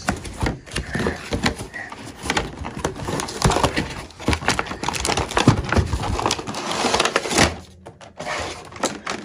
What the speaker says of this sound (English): let's open up the box.